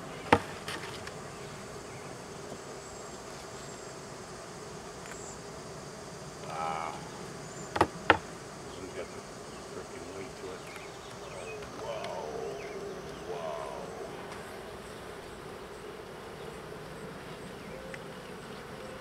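Honey bees buzz quietly around an open beehive, a steady faint outdoor drone with a few sharp clicks and brief louder swells, and no voices.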